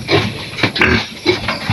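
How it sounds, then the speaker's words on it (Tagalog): Native bulaw pigs grunt and snort in three or four close, rough bursts at a farm pen, loud and fairly rhythmic. "Ayan po yung mga baboy naming bulaw."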